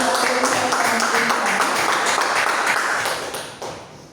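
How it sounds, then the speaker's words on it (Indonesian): An audience at a teacher orientation seminar for public-service teachers in Surakarta applauds. Close, steady clapping fills about three and a half seconds, then eases off at the end. "Mari kita beri tepuk tangan dulu untuk Bapak Hanafi."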